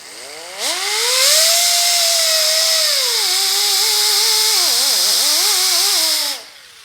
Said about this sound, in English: Now you are grinding lead, so you need to be wearing some protection